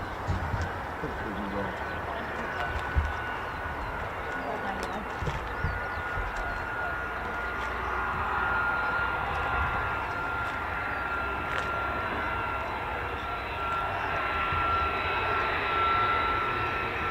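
A US Air Force F-15 or F-35 fighter jet lands at RAF Lakenheath, its broad steady engine roar rising slightly and sustained throughout, heard from a distance outdoors with people talking and faint birds in the background.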